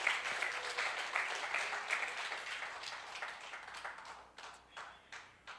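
Applause from a church congregation, faint and fairly close, with claps in irregular bursts that thin out and taper off.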